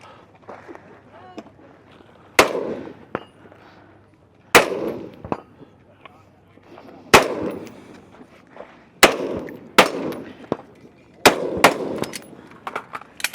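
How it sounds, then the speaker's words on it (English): Rifle shots ring out at steel plates about 200 yards away in a shooting competition, a series of sharp cracks at uneven intervals with metallic echoes, under occasional commentary. "They will move on to their rifle."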